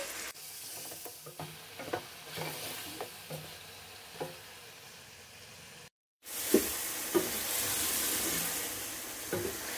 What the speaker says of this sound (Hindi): लहसुन अदरक का पेस्ट डालने के बाद हम इसको 2 से 3 मिनट मजीद फ्राई करेंगे